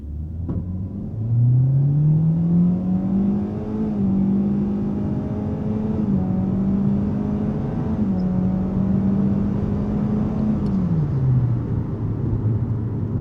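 A Kia K4 accelerates hard from 0 to 60, its engine drone climbing in pitch, holding a steady rising whine, then dropping off as the car eases near the end, heard from inside the cabin.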